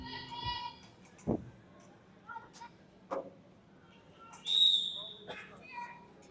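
A referee's whistle gives one short, shrill blast during a roller derby bout, heard in a quiet arena among scattered knocks and faint voices.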